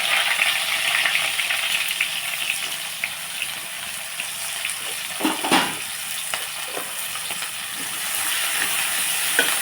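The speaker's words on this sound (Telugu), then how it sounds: "ఇదిగోండి ఇప్పుడు మనం ఉల్లిపాయలు పచ్చిమిర్చి వేసేస్తున్నాం" Chopped onions and green chillies sizzle in oil in a pan, a close, even frying hiss with a few soft stirring knocks and a faint watery gush.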